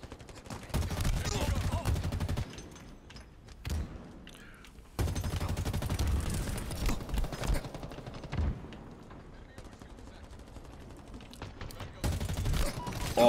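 Sustained gunfire in Halo Infinite multiplayer, long rattling automatic bursts broken by short pauses, close and loud, with brief booms mixed into the chaotic firefight.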